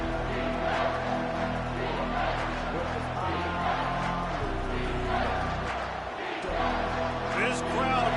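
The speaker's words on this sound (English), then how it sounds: "This crowd knows when to bring it." A college football crowd at the Iowa versus Washington game roars continuously in a stadium, a broad loud wash of cheering and yelling that swells and briefly dips, with a commentator talking over it.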